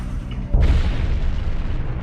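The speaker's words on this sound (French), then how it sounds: "C'était une explosion vraiment puissante et étonnante." A deep booming explosion meant to evoke a supernova, the blast of a star, bursts in abruptly after a faint rumble and rolls on as a sustained low roar.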